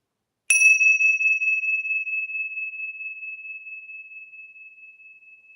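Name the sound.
meditation bells ringing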